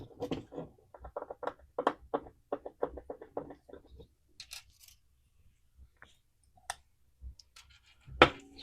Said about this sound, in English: we're going to have to take these screws out